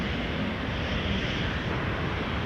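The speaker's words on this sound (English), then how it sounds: "we got a heavy landing up" A heavy jet airliner lands at Toronto Pearson airport with a loud, steady, broadband engine roar that holds without a break.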